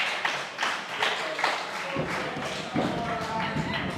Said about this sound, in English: Brilliant round of applause from all the neutrals in the crowd.